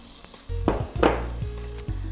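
Tomatoes, onion and ginger dropped into a sizzling pan of poulet DG, bursts of hissing frying as pieces hit the hot oil, with a few clattering stirs over a low steady hum.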